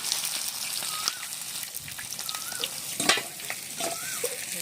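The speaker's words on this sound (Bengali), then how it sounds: "তারপর মাথাটা আমার কত সুন্দর ভাজা হয়ে গেছে, আমি এখন তুলে নিচ্ছি" A katla fish head frying in hot oil gives a steady crackling sizzle with sharp spattering pops, and a few soft clinks of a utensil come through close up.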